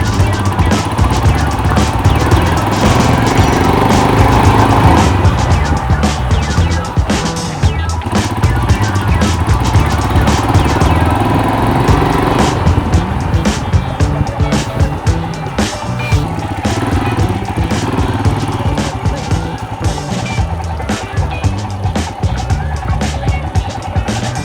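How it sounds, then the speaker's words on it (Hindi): A motorbike ridden on the road, its engine droning steadily with wind buffeting the microphone throughout, loud and continuous with faint bumps and rattles. "देखिए मैं अभी अपनी बाइक चला रहा हूँ."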